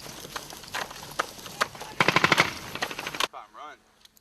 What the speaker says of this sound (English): who's shooting machine gun?